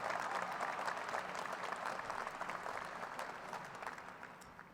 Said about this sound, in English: Please join me in a round of applause for the staff of the Undergraduate Program Office.